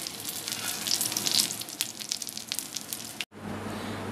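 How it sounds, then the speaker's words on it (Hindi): A chicken tikki patty fries in a pan on the stove with a steady, close crackling sizzle. It cuts off abruptly near the end, then resumes more softly, with no voices. "जो नीचे से फ्राई देखूँगी, नीचे से फ्राई हो गया, अभी नहीं हुआ।"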